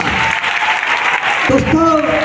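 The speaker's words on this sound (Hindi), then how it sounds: "हमारे आइडियल मिस्टर अभिजीत मेहती सर के लिए ताली हो जाएगी जोरदार।" An audience claps loudly for a mentor at a recognition event in Katihar, Bihar, a dense continuous applause with some voices and tones rising over it in the second half.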